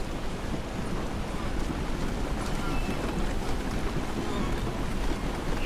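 A boat being hauled toward an island in Rise of the Tomb Raider, heard as a steady, full wash of water and wind noise that carries on without a break.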